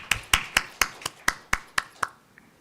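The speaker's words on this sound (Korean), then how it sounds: "우리 다 같이 박수로 환영하겠습니다." A church congregation claps in welcome at a Sunday worship service, about nine sharp, evenly spaced claps with no talk.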